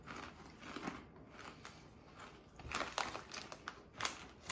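Crunchy bites into puffy, curvy tomato and spice potato snacks, a series of close, crisp crackling crunches that grow louder toward the end, with no talking.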